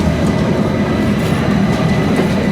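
A Soviet-era train with old carriages rumbles steadily along the rails toward Chișinău, Moldova, a continuous close, loud clattering roar with no voices.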